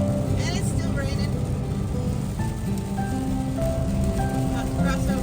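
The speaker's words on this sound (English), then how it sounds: "And it's still raining." Steady rain hisses and patters on a semi truck driving the I-80 toward Iowa, with constant road and engine rumble beneath the wet wash.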